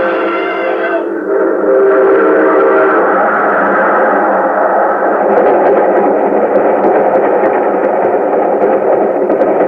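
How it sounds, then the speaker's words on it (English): A loud train rumbles past with a blaring horn at the start, followed by a steady heavy roar of rolling wagons. "There's a train coming."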